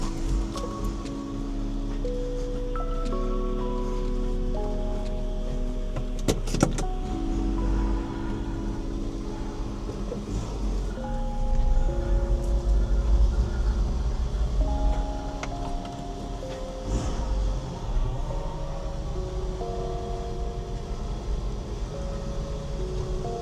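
A lifted 1996 Toyota Hilux pickup truck on ball joint spacers drives along, its engine and road rumble a steady low drone with occasional thumps and rattles from inside the cab.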